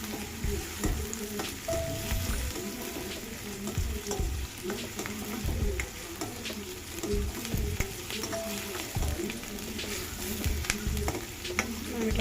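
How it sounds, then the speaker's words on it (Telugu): Fish eggs frying in a pan and stirred continuously, giving a dense steady sizzle with frequent scraping and clinking of the utensil against the pan, close and fairly loud for about twelve seconds without speech. "కాస్త మధ్యలో కలుపుతూ ఉండాలి."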